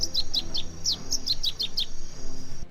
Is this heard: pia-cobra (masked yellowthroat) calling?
yes